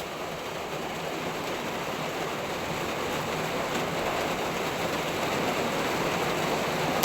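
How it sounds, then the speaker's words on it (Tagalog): Heavy rain pours steadily outside a small shop, a dense, continuous hiss and patter that stays loud and even throughout, with no wind and no voices. "Ang lakas ng ulan"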